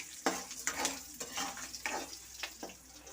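Semiya idli batter with curry leaves being stirred in a bowl, a spoon scraping in several distinct strokes over a soft background hiss.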